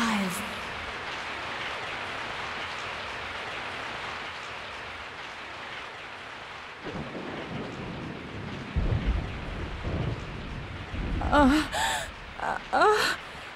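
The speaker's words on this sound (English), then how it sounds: "I woke up to the sound of falling rain." Steady rainfall and rumbling thunder in the Resident Evil 3 video game, a continuous wash of rain, with louder rolling thunder bursts in the latter half alongside a gasping voice.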